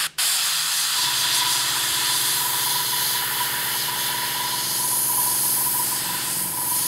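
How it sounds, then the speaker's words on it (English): Badger Patriot 105 airbrush spraying paint gives a steady, close hiss of air, with a compressor's low mechanical drone running underneath throughout and no talk. "sorry about the compressor noise in the background"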